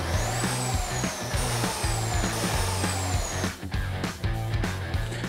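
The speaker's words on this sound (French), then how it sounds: "ça reste une scie plongeante qui est motorisée" A Mafell PSS 3100 SE motorized plunge saw cuts into a panel, its whining motor pulsing in rhythmic bursts at close range before the cut eases off near the end.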